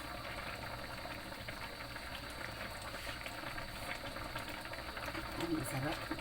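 Sinigang with okra simmers in a pot, a soft continuous bubbling and gentle boil heard faintly at low level, with a brief voice near the end.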